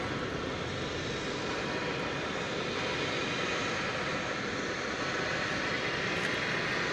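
A Frontier Airlines plane at DFW Airport gives off a steady, fairly distant engine roar that holds evenly throughout, with no voices over it.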